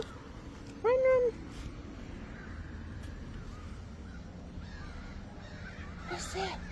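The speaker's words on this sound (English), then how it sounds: "Oh, birds. Birds everywhere." Crows caw outdoors around a cat, with one loud, close caw near the start and fainter calls later over steady outdoor background, while a person talks nearby.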